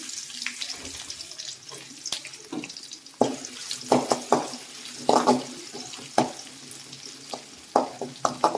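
Onions sizzle and crackle in hot oil for a tempering with curry leaves, with sharp spitting pops and light stirring clatter close by, growing busier in the second half.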